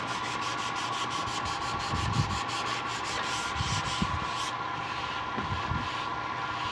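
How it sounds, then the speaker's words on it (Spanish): Steady rasping strokes of sandpaper rubbing over a wooden piece during a two-tone finishing job, fairly faint and continuous with a few louder scrapes, no talking. "Y vamos a estar lijándolo."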